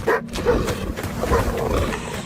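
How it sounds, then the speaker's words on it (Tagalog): A pet dog barks loudly in a Filipino aswang horror audio drama, several sharp close barks in quick succession over a rough, noisy background. "Muli naming narinig ang malakas na tahol ng alaga kong aso."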